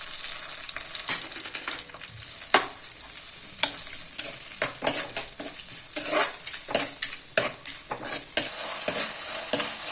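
Tomatoes fry in a pan with small onions for a chilli sardine curry, giving a steady close sizzle broken by frequent scraping stirs and taps of the spoon throughout, with no talking.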